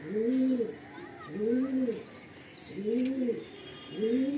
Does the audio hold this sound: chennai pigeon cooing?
yes